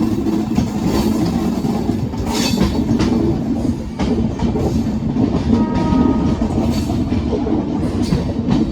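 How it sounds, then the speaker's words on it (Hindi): The Delhi Pathankot SF Express switches tracks, its heavy wheels rumbling and clattering over the points in a loud, continuous close-up roar with no voices. "देखिए दोस्तों कैसे ट्रेन जो है अपनी पटरियां चेंज कर रही है।"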